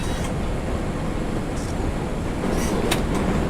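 A train rolls along steadily in the PC horror game Process, a dense continuous rumble and rattle with faint metallic clicks, no voices over it.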